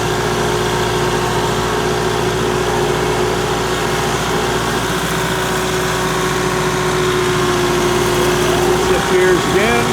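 A Kubota M5660 SU tractor with shuttle shift runs steadily in reverse on the high range, its engine droning loud and close at an even pitch with a rising whine near the end.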